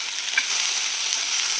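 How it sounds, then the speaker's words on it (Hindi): Tomatoes fry in a pan as they are stirred and roasted for a gravy, giving a steady, close, even sizzle that carries on without a break and with no talking. "और 5 मिनट तक मैं इसे ऐसे रोस्ट करूंगी"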